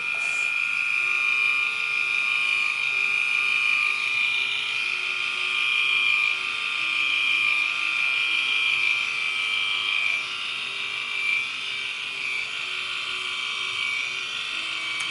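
A Bumzzy 2.0 electric body shaver runs steadily on an underarm, giving a continuous close buzzing whine with slight shifts in pitch as it moves over the skin, loud and unbroken throughout.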